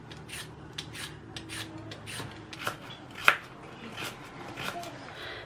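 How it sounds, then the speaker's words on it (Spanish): A carrot is peeled close up, giving soft rhythmic scraping strokes with one sharper click, quiet and alone in a kitchen. "vamos a empezar pelando la zanahoria para poder ir pochando las verduras"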